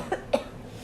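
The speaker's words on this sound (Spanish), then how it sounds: "I have to cough to enunciate this" Someone recovering from an illness gives two short, quiet coughs in quick succession. They sound moderately near against a faint, steady room hiss.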